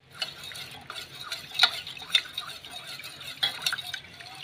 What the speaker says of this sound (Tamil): இப்போ ஒரு ஸ்டவ்வில் இப்போ ஒரு 5 நிமிஷத்துக்கு நம்ம கிண்டி எடுத்துக்கலாம்